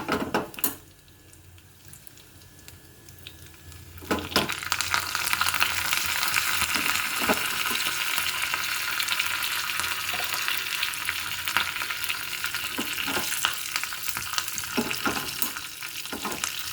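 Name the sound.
mustard seeds and cumin frying in a pan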